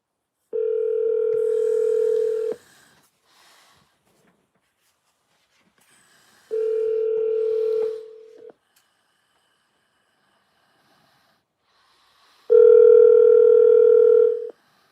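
An Alexa smart speaker places a phone call, giving three long steady ringback tones about two seconds each, separated by silent gaps of roughly four seconds, clear and alone with no talking.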